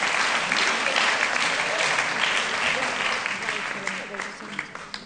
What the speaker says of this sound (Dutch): Onder applaus natuurlijk.